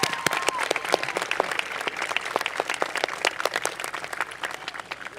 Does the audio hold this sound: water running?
no